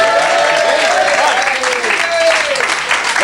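Loud studio audience applause on a radio comedy show fills the whole stretch as a dense, steady wash, with a few whoops and voices faintly riding over the clapping.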